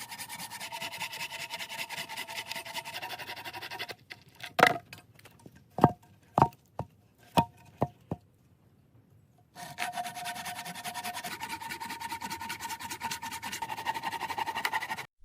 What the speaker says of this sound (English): He begins milling lumber, sawing a large log into flat, usable planks for flooring and furniture.